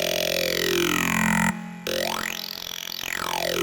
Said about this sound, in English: the next sound is a classic formant filter type sound, also using a wavetable